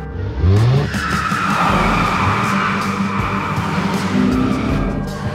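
A Ford Focus Fastback drives hard with loud, sustained tire squeal and skidding over a revving engine, close up and continuous throughout.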